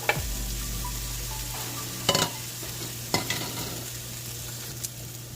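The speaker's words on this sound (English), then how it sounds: "Okay, let's throw in our onions here." Onions hit a hot pan for fried cabbage and sizzle steadily, broken by several clattering stirs and scrapes of a utensil against the pan, with a low hum in the background and no talking.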